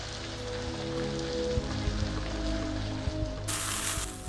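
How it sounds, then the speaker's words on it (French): Kidney sears in oil and butter in a hot pan, giving a steady, dense sizzle like rain on a surface that stays loud and close throughout, with an occasional pop. "avant d'y ajouter le rognon, de bien le saisir sur ses deux faces"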